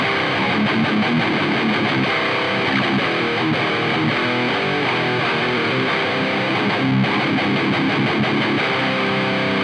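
Electric guitar played through a Soldano amp sim and cabinet with a tube screamer in front on an Ampero 2 Stomp, a loud, dense distorted tone that chugs continuously with only a short dip near the end.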